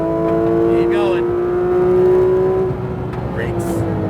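A Porsche GT3 RS engine revving on track, a steady loud drone with a brief shift change near the midpoint, heard from inside the car under an instructor's voice.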